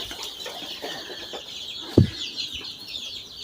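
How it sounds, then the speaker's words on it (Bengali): Young 21-day-old chickens cluck and scurry about in a coop, soft peeping and clucks running through a busy background with one sharp close thump partway through. "আমার এই মুরগিগুলোর বয়স 21 দিন হলো। দেখেন কিরকম ছোটাছুটি করতেছে।"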